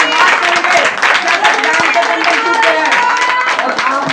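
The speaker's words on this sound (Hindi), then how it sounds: "जोर से तालियां देंगे परमेश्वर के लिए।" Church congregation clapping together in a dense, steady wash of applause that runs the whole length at a loud level.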